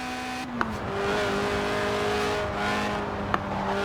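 Lotus Elise, a 1990s mid-engined two-seat roadster, drives in Forza Horizon 4 with a steady engine drone that drops in pitch early on, plus a couple of sharp clicks, no voices.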